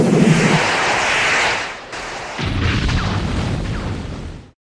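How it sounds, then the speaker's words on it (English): Mechagodzilla's tranquilizer missiles firing, a loud, dense blast that swells and carries on, dips briefly, then resumes as a roaring rush before it cuts off abruptly. "Firing tranquilizer missiles."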